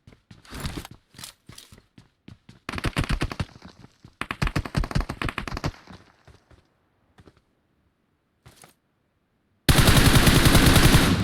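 Bursts of automatic gunfire from PUBG Mobile, a one-man squad battle, crackle in rapid volleys, falling quiet before a final loud sustained spray of shots near the end.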